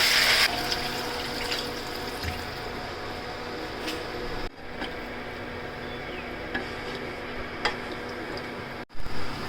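Water is poured into a pot of goat meat curry with potatoes and garlic in a home kitchen. The pour is a steady, close rush that runs almost unbroken for over nine seconds, with a few faint ticks and clicks.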